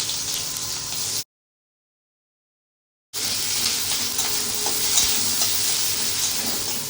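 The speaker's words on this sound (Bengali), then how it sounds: "তো এখন দিয়ে দিচ্ছি আমি কেটে রাখা পেঁয়াজগুলো" Chopped onions hit a hot pan and fry with a steady, close sizzle and stirring. A silent gap breaks it partway, then the frying resumes just as loud.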